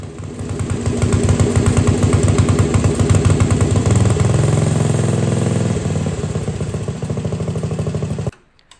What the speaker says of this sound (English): When I increased the throttle, the engine would sputter and not rev up.